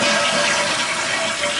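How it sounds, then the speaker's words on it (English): A household toilet flushes in a steady, loud rush of water that fills the whole short stretch, heard up close with no voices. "So now I'm going to flush it again"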